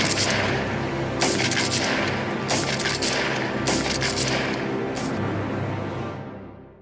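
A rifle volley booms out in loud, ragged cracks, several shots firing close together in repeated bursts with reverberant rumble between them, fading away at the end; no one speaks.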